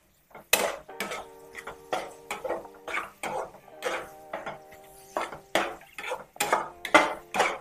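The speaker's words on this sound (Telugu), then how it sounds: "ఇగో ఇలా టాస్ చేసుకుంటూనే ఉండాలి హై ఫ్లేమ్లో" Egg fried rice tossed in a metal pan over a high flame, with repeated sharp scraping and clattering strikes of spatula on pan in an irregular rhythm, close and clear.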